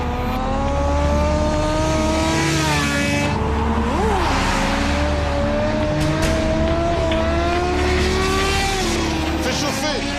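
Big-displacement motorcycles in an illegal street race, engines roaring loudly as they accelerate hard with rising pitch, continuous throughout, with voices talking over the engine noise.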